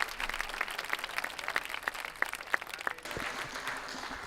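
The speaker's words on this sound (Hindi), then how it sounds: "मेरे साथ आपकी तालियों की गूंज शामिल होनी चाहिए" A crowd applauds at an Urdu mushaira poetry recital, a steady wash of many hands clapping, fairly distant and even, with a few sharper individual claps standing out before it softens near the end.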